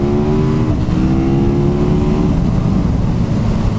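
A 2017 KTM 1290 Super Duke R naked motorcycle pulls hard under power, its engine droning loud and close with a rising, then settling tone and wind rush, no voices.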